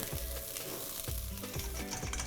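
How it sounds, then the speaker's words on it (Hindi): Onions fry in hot oil, ghee or butter, producing a dense continuous sizzle with repeated low scraping thuds from a spatula roughly every half second, close and fairly loud. "अभी जैसे ही तेल या घी या बटर जो भी आपने लिया है गर्म होता है, वैसे ही उसके अंदर डाल देना है प्याज"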